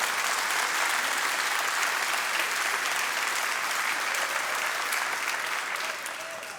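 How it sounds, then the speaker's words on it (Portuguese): Sustained applause from a church congregation, dense and steady clapping at full strength for most of the stretch before easing slightly at the end. "Pode dar uma salva de palmas ao Senhor."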